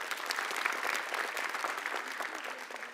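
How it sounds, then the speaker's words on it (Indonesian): A live comedy show audience applauding, a dense, steady wash of clapping hands that holds at even loudness for the whole stretch, with no clear talk over it. "Tepuk tangan boleh."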